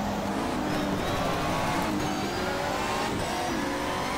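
A race car engine screams at full throttle in GTR 2 at the Vayline International Raceway in Germany, a steady loud high-revving drone with rising gear-pitch sweeps and other cars nearby.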